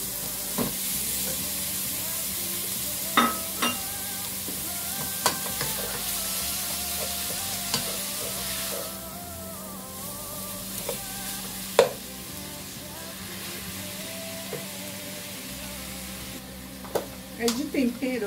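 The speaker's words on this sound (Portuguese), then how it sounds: "Agora aqui minha carne moída. Deixar ela refogar bem aqui." Ground beef sizzles steadily in a pan on the stove, a constant frying hiss broken by occasional spoon taps and stirring scrapes.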